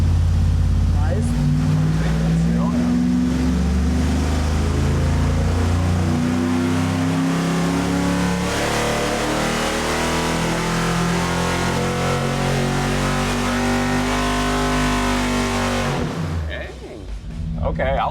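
A V8 engine fitted with budget 305 or 302 cylinder heads makes a full dyno pull, a loud sustained roar that climbs steadily in pitch for about sixteen seconds before cutting off and winding down.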